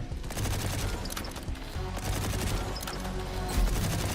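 Sustained, dense automatic gunfire from the dwarven mining shooter Deep Rock Galactic, loud and continuous with rapid rattling bursts filling the whole moment, no voices.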